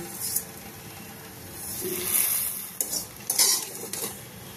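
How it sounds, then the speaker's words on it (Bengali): A utensil stirs vermicelli in milk in a pot for kheer semai, with soft scraping strokes and a few sharper clinks against the pot over a low background hiss. "সিমুইটা দিয়ে 1-2 মিনিট নাড়াচাড়া করে দেব"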